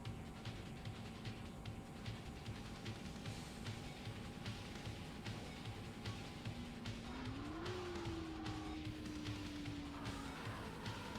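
A video game car downshifts hard and drifts, its engine droning steadily while a tire squeal rises midway and then slowly falls away, loud and continuous throughout.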